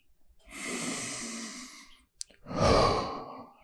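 Two deep breaths from a person relaxing on a Swiss ball: a long, airy inhale, a brief pause, then a louder, fuller sighing exhale, close up in a quiet room.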